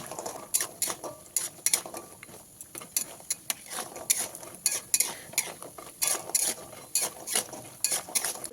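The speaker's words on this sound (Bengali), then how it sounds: "এর মধ্যে বড়িগুলো দিয়ে দিলাম দিয়ে বড়িগুলোকে লাল লাল করে ভেজে নিতে হবে" Lentil dumplings (bori) frying in well-heated oil, heard as a busy, close run of quick clicks and taps from a stirring utensil against the pan over a faint sizzle, with no talking.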